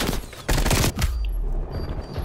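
Rapid bursts of gunfire from a search-and-destroy round in a first-person shooter game crackle loudly for about a second before fading into a quieter tail of game ambience.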